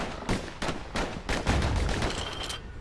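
Dueling pistols firing in the video game Bastion, a rapid string of sharp gunshots in quick succession, about eight cracks in under three seconds, alone without talk.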